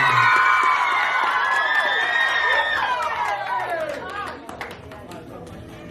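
Young people cheer loudly at a Samoan break-up party in Canberra, their shouts overlapping in a sustained burst that fades into chatter and scattered shouting by the end.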